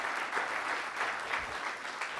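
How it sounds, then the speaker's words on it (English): Steady audience applause fills a conference hall after a presentation, a dense even wash of clapping from a crowd with no talk over it. "Let's give him a round of applause"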